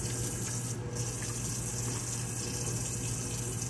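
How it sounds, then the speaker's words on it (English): A kitchen tap runs in a steady, hissing stream while hands are washed after handling raw pork, the water rushing continuously and close by with no voices. "I'm going to wash my hands because the meat was obviously raw and you don't want cross-contamination and all that."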